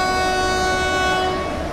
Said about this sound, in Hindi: पहले एक हॉर्न बजाता हूँ वार्निंग के लिए